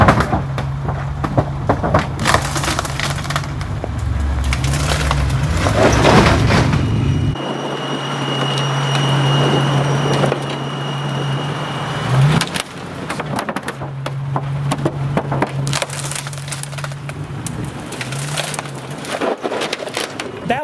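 Land Rover Defender engine revving and rumbling as it climbs onto and crushes an Audi and a Kia, with loud cracks and crunches of metal and plastic; engine drone shifts pitch and cuts out briefly midway.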